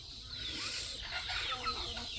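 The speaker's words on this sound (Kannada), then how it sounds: "ಇಲ್ಲಿ ನೋಡಿ, ದೊಡ್ಡ ಕೋಳಿಗಳು ತಿಂತಿದೆ ಇದನ್ನು." Hens cluck and peck while eating onion and vegetable waste, a steady close farmyard murmur of fowl sounds with no talking.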